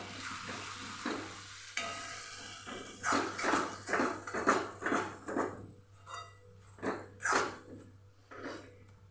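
A spoon stirs Kathiyawadi green onion curry in a pot, giving faint scraping strokes and soft oily sizzling in irregular bursts, close and quiet, with no talk.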